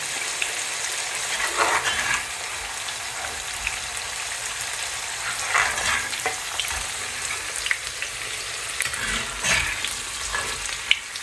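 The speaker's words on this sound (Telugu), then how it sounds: "ఇక్కడ వెల్లుల్లిపాయలు చూసారు కదా, చాలా లైట్గా ఫ్రై చేస్తున్నాము" Garlic cloves lightly frying in oil for garlic pickle, a steady close crackling sizzle with occasional brighter spatters and stirring scrapes, no voices.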